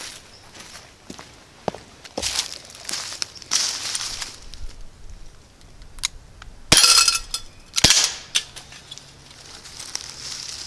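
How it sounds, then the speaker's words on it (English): An Umarex Beretta air pistol fires at a Daisy Rocket Shot target outdoors, with two sharp, bright cracks standing out among scattered lighter taps and footsteps. No one talks. "Yeah, shot that thing again"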